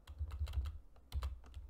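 Keys clacking on a computer keyboard during formula entry in a Google Sheets spreadsheet, a quick run of close, crisp taps in two bursts with a short pause between, no voice.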